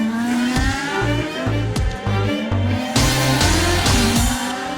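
A Nissan GT-R race car and another car charge downhill on Mount Akina: engines rev and shift through rising and falling tones, with sharp tire noises, loud and close, over music.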